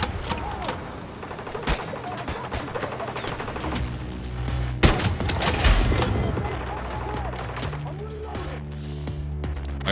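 Sharp gunshots crack through a shooter video game, with several bursts and one strong report in the middle, heard over a constant stream of talk.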